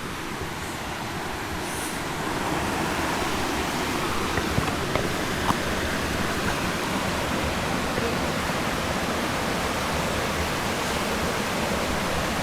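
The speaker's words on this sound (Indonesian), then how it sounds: "Guys, kita akan menyeberangi sungai." A river flows steadily in a continuous broadband rush while people trek toward a crossing, the water close and loud throughout with no voices standing out.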